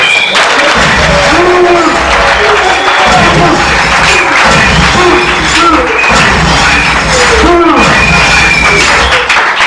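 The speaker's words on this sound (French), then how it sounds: "Est-ce qu'on peut applaudir?" An audience at a French-language political address claps and cheers in a dense, sustained burst that lasts throughout, with scattered thumps and a few voices mixed into the crowd noise.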